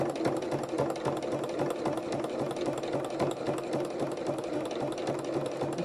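A sewing machine stitches free motion embroidery in a quick, even, mechanical patter that runs continuously at a fairly soft level, with no voices over it.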